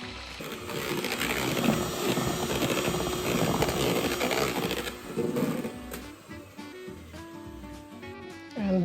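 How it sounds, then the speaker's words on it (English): An electric mixer whirs steadily as it whisks four egg whites with a pinch of salt for a Polish Easter piegus, its buzzing rising and falling in intensity before briefly cutting out near the end. "I'm using the 4 egg whites that we use the yolks for the dough with a pinch of salt, and we gotta whisk these"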